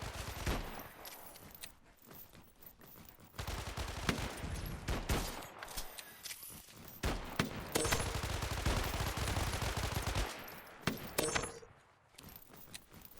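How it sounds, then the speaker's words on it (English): A grenade launcher fires in the Helldivers video game. Loud, close bursts of repeated blasts and rattling impacts come in irregular clusters. "I'll give the grenade launcher a couple more tries."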